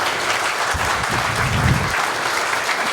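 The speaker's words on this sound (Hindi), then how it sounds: "अरे जोरदार तालियां बजाओ" Audience applause at a motivational talk, a steady wash of clapping throughout with a few low thumps midway.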